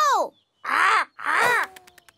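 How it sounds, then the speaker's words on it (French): A cartoon crow caws three times, loud and close, with drawn-out raspy calls and a short pause between the first and second, followed by a few faint clicks. "Oiseau !"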